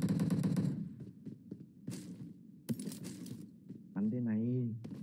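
Gunfire in the PUBG video game on the Livik map: short, sharp bursts of shots scattered across a few seconds, fairly quiet, with players talking in between.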